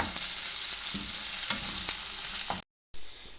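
Chopped, crushed ginger and garlic sizzle steadily with onions in a karahi for beef keema, a close, dense frying hiss with light stirring scrapes and a brief drop-out before the sizzle resumes.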